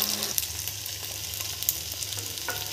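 Vada fritters made for a fast day fry in hot oil over medium gas, a continuous bubbling sizzle with a low background hum and a couple of brief clicks or knocks.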